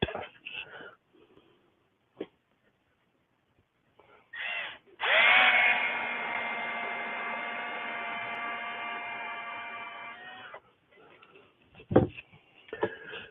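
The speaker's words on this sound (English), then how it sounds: "Some more drilling." A power drill whirs steadily for about five seconds while driving screws in a workshop, winding down at the end, framed by scattered clicks and handling noises before and after.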